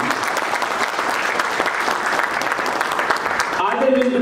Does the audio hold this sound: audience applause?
yes